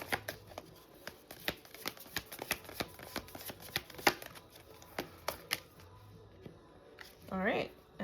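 Tarot cards being shuffled and drawn, a steady run of crisp, close riffling flicks and slaps over several seconds, quiet between, ending with a brief voice.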